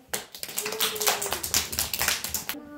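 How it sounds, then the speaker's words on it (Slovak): A group of people clapping hands together in a burst of quick, overlapping claps during a children's Christmas flute concert, fairly close and steady, ending with a brief high tone. "Super, zatleskáme."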